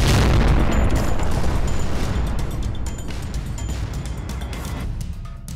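Bombs explode in a video game, a loud broadband boom with a heavy low rumble that stays dense and sustained through the whole stretch, slowly fading near the end, with no talking over it.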